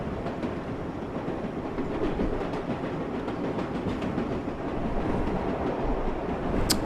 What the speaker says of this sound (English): Ah, we're passing another train.